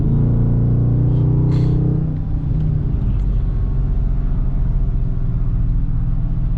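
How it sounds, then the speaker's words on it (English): A black widebody Dodge Challenger Hellcat idles close by with a deep, loud rumbling burble, its throaty engine note dropping slightly as it settles while pulling up. "Wide body Hellcat, all black, just like mine, just pulls up"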